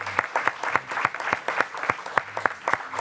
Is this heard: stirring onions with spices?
no